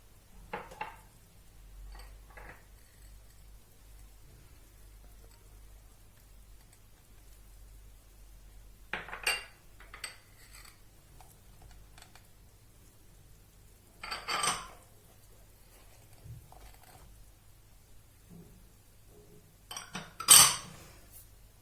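A spoon stirring pudding ingredients into a litre of milk in a pot gives sparse, faint clinks and scrapes against the metal. A few louder knocks stand out over a quiet low hum.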